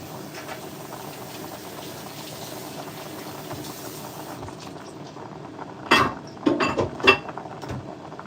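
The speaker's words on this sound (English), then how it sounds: "finally it's boiling." Water boils steadily in a pot while cooking chicken and beef skewers, a continuous bubbling hiss joined near the end by a few louder clinks and scrapes of kitchen utensils.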